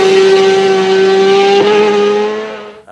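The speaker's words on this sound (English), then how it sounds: "super bikes with more than 200 brake horsepower, big sticky fat tyres on them" A superbike of over 200 horsepower on big, sticky, fat tyres races the Isle of Man TT, its engine a loud, close, sustained high-pitched howl that holds steady, climbs slightly, then cuts away abruptly at the end.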